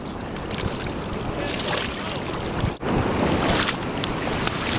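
Hikers wade across a cold river on the Lost Coast, rushing water and splashing filling the scene in a dense, continuous wash, with wind mixed in and a brief dip midway.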